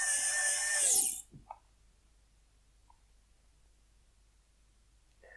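A HYCHIKA HYQ2001 cordless precision screwdriver, lacking a clutch, drives small screws into plastic with a close, steady high-pitched whir lasting about a second, followed by a couple of faint clicks and near silence.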